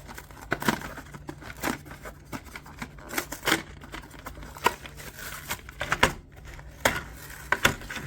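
Hot Wheels Retro Racers two-pack packaging, holding a Porsche 917 LH and an Erikenstein Rod, being ripped open by hand with no knife, giving a close series of sharp cardboard and plastic tears and crinkles in irregular bursts, with no talking.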